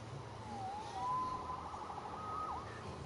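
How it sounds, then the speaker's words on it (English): A police siren wails in the Spider-Man video game, its pitch sweeping up and down steadily over a low rumbling city background, moderately loud and without speech. "Saved by the siren."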